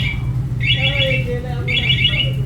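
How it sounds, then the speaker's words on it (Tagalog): A Suzuki Raider 150 Fi motorcycle alarm chirps in two quick warbling bursts over a low engine-like hum. "Pag narinig mo yung isang tunog na yun, alarm na yan."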